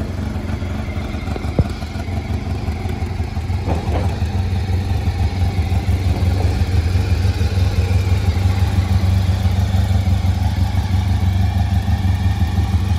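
A restored Honda RC30 (VFR750R) 750cc sport motorcycle engine catches after a short crank and settles into a steady, throbbing idle, close and continuous.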